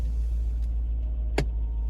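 A Mercedes CLK 500 with 80,356 miles, unmoved since its last MOT, idles with a fault: a steady deep engine rumble with one sharp click partway through.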